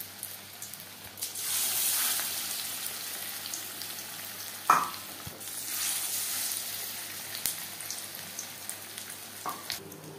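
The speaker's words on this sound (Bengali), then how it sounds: "পরিমাণ মতো রিফাইন্ড অয়েল গরম করে নিয়েছি। দিয়ে দেব ব্যাটারে ডুবিয়ে রাখা মাছ।" Battered fish slides into hot refined oil at medium flame, setting off bursts of bright crackling sizzle that swell and fade, punctuated by a few sharp clinks of a utensil, close and moderately loud with no talking.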